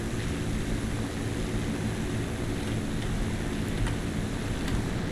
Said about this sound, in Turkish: Şimdi tam gaz verdim.